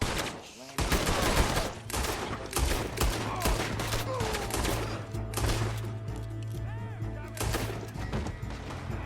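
Rapid bursts of gunfire ring out in a Red Dead Redemption 2 shootout, with dense, loud, overlapping shots and a continuous sustained tone running beneath them throughout.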